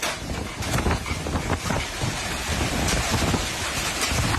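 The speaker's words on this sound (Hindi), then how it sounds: "ताइवान में तूफान क्राथॉन का तांडव है।" Storm winds of Typhoon Krathon in Kaohsiung, Taiwan blast and buffet in a loud, rough roar, with gusting surges and a rain-like hiss throughout.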